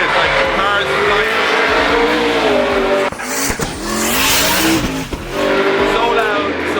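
Drift cars race at the Drift Masters event in Riga, engines screaming and revving hard with tire squeal as they pass close and loud, one after another.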